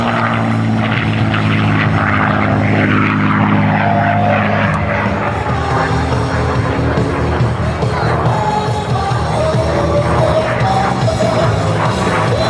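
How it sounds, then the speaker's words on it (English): A P-51 Mustang fighter flies an aerobatic demo at the 2011 Wings Over Wayne Airshow, its propeller engine roaring loudly and continuously as the pitch shifts through the maneuver. "The barrel roll will once again show the vertical capability of the Mustang."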